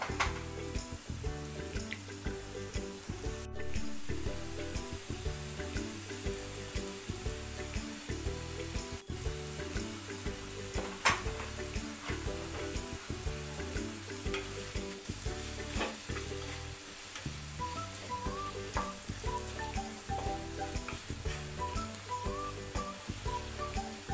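Onions with salt frying in a pan, a quiet continuous sizzle heard alone and fairly distant, set against a steady patterned background hum.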